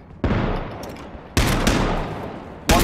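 Gunfire in the video game H1Z1: Battle Royale, three loud, close, sharp shots spaced about a second apart, each trailing off in a reverberant decay.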